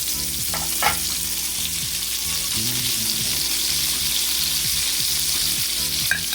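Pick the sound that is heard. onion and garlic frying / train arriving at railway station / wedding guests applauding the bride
onion and garlic frying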